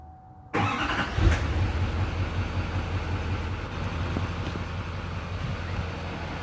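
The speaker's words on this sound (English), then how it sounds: "here comes the cold start after we installed the Resonator delete plate" A 2011–2016 Duramax LML diesel pickup with its intake resonator deleted cold-starts near the mic: a sudden crank and catch, then a loud, rough, steady diesel idle clatter that continues throughout.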